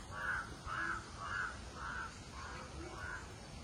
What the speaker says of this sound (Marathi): मस्त पक्ष्यांचा किलबिलाट सुद्धा